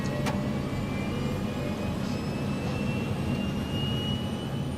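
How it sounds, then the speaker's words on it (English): Airliner jet engines roar steadily at high power as the plane accelerates down the runway for takeoff in a flight video game, a dense continuous rumble with a whining tone rising slowly throughout, loud and without speech. "The airplane is on the runway, accelerating, getting faster."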